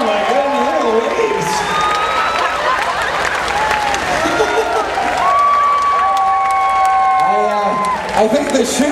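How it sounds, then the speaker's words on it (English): A crowd applauds and cheers after a belly flop at a belly flop contest aboard a ship, sustained clapping and shouting with children's voices, loud and close, while a host talks over it. "let's give him a huge round of applause"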